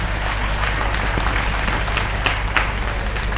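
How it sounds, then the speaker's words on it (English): Audience applause at an inter-school quiz competition during a school raising day event, steady broadband clapping from a crowd lasting throughout, fairly loud and continuous with no talk over it. "Claps."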